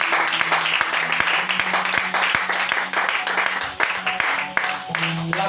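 A church congregation claps, a run of sharp, fairly regular handclaps over a steady background hum, close and lively, with a few voices mixed in.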